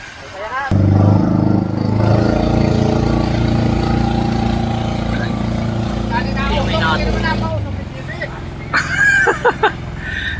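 A new boat's motor starts up and runs with a steady low drone for several seconds, then cuts off while people talk nearby.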